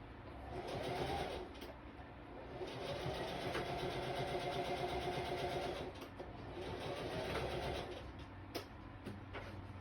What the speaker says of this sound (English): take it to your sewing machine and close that little hole right there